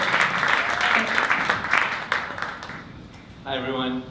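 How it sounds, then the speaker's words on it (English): An audience at a 1 Million Cups Dallas morning event claps in a loud, sustained round of applause that fades out, with a voice speaking near the end. "let's welcome him with a round of applause today, please."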